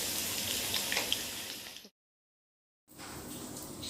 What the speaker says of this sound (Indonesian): ini kentangnya sudah kita goreng semua ya